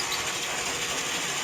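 A sawmill log loader runs with a rapid, continuous ratcheting clatter of gears and pawls, close and steady with no talking.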